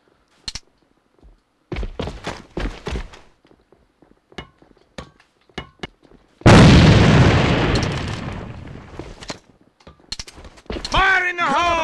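In the AVA shooter game a grenade bursts with a sudden loud boom that decays over a couple of seconds, preceded by scattered thuds and clicks of gunplay, with speech breaking in near the end.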